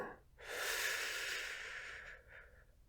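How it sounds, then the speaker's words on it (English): A single deep, slow breath, drawn in and let out with an airy, hissing rush, close and quiet, with no talking. "take a couple deep breaths for me, please"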